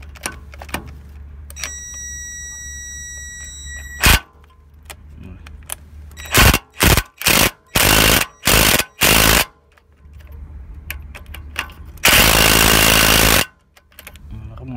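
An AEG cordless impact wrench loosens wheel nuts on a GAZ Sobol, sounding as a series of short, loud hammering bursts followed by one longer sustained burst, all close by and with quiet pauses between.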